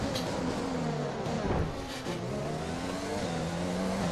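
Honda-engined Formula 1 cars in the racing game F1 2020 at the Russia race, engines whining and rising in pitch as they accelerate, with overlapping revs shifting up through gears, steady and fairly loud.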